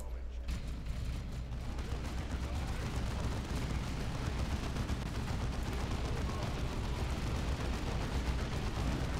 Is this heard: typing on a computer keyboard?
no